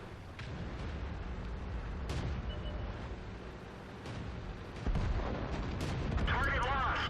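Heavy tank cannon fire and battle booms from a World of Tanks match, loud and sustained with sharp reports over a rumbling background, and game voice lines heard over the action.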